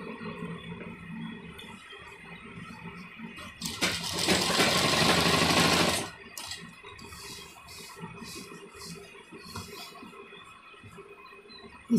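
A sewing machine runs in a short burst for about two seconds while stitching a gents kurta, loud and close, set between quieter stretches of room noise and handling sounds.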